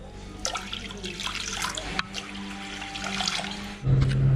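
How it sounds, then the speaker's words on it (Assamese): Water pouring into a wok (kadai) set up to boil chicken with bamboo shoot, a steady close splashing flow that continues for several seconds, then changes to a louder, fuller rush near the end. "ইয়াত পানী দি দিওঁ"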